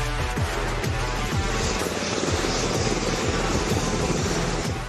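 An MH-60R Seahawk military helicopter of the Indian Navy runs loud and close, its rotor chop beating steadily and unbroken over a dense turbine roar with no voices.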